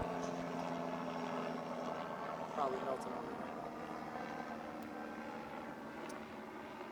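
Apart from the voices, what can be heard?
helicopter flying overhead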